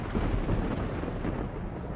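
Steady heavy rain hisses with deep rumbling thunder in the fantasy role-playing game Risen 2: Dark Waters, a loud continuous storm with no pauses.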